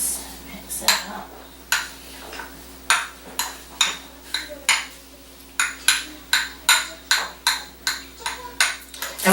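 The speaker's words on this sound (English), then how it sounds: "Okay, let's mix it up." A utensil mixing deviled egg yolk filling in a bowl, rhythmic scraping clinks against the dish repeating steadily, close and fairly loud with no talk.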